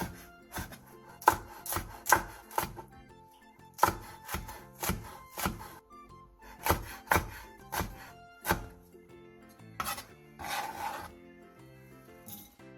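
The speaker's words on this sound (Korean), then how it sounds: "대파 2분의 1개, 청양고추 2개, 홍고추 1개를 어슷 썰기 해주세요." A knife slices green onion, green chili and red chili diagonally on a cutting board, giving crisp, uneven chopping taps in short bursts with brief pauses, close and fairly quiet, with no voices.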